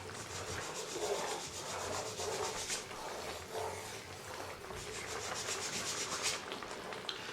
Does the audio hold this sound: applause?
no